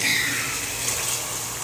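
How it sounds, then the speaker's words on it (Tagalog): A little water is poured into a hot frying pan while cooking, giving a brief, steady hissing gush that stays even for under two seconds. "Lagyan natin ng konting tubig."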